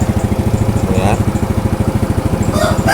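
A motorcycle engine idles close by with a steady, loud, pulsing thump while a person talks briefly over it.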